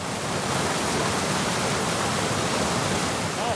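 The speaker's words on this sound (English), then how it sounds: "Now we got a raging river." A snowmelt-flooded creek rushes across a road as a raging river, giving a steady, loud, close roar of churning water with no pauses.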